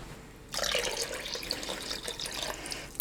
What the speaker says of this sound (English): Just fill up my cup.